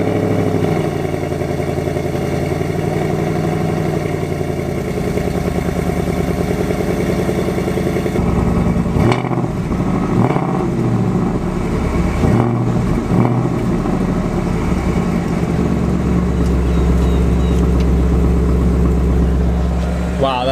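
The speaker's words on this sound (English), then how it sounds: "so we're gonna do a nice cold start." Cold start of a 2015-19 Ford Mustang GT V8: a loud, steady engine idle runs throughout, with a sharper shift in tone partway through as the rumble settles into a deep, even idle.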